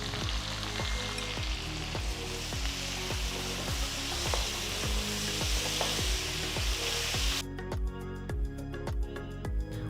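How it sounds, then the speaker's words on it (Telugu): Six medium onions, sliced lengthwise, fry in a kadai for chicken biryani, giving a steady dense sizzle under a regular rhythmic metallic tapping throughout, loud and close with no talking. "అదే కడాయిలో నేను ఆరు మిడి ఉల్లిపాయల్ని ఇలా పొడవగా కట్ చేసి వేస్తున్నాను"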